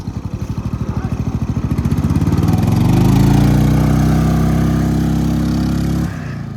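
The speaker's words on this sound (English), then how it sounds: "Give it some revs." Homemade mini jeep's small engine chugging with a rapid pulsing putter, then revving up into a loud, rising, steady drone that holds before abruptly dropping off near the end.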